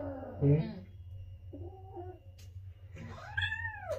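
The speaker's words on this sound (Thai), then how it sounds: "แมวหนูเนี่ย ไม่ชอบให้ ตัดเล็บทุกคน พอจะตัดเล็บเนี่ย นางก็จะร้องแบบนี้ตลอดเลย" A cat yowls and meows in protest while its nails are being trimmed, three or four drawn-out, rising and falling cries close to the listener, with a low hum underneath.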